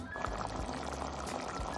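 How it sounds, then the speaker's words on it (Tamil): Water bubbling at a rolling boil in a cooking pot, being readied for rice in a mushroom biryani; a steady, dense churning wash of bubbles heard close and fairly quiet throughout. "பாருங்கள், தண்ணி எவ்வளோ நல்லா கொதிக்குது."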